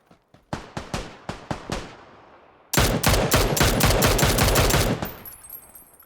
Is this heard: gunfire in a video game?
yes